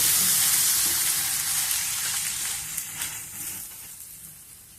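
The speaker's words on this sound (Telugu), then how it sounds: "నిదానంగా పరోటాని నిదానంగా కాల్చుకోవాలా." Radish parota roasts in butter on a hot pan, a loud close sizzle that slowly fades and softens, with a few crackles and no talk.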